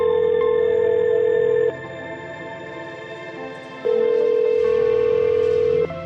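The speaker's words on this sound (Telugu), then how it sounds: "వీడు ఫోన్ అటెండ్ చేయట్లేదే" A telephone ringback tone sounds in two long steady bursts separated by a quieter gap, while a call to a phone goes unanswered.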